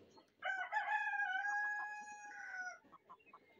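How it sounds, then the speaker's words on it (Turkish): Chickens and chicks in a farmyard squabble and chase each other over a mouse, with a rooster's crow and loud clucking up close, calls rising and easing off. "Fareyi gören bir kovalıyor. Küçük civcivler de dahil buna."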